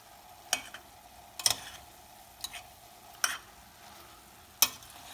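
Wilted spinach being stirred in a cooking pot: a handful of sharp utensil scrapes and clinks spaced a second or so apart, over a faint steady background with no talking.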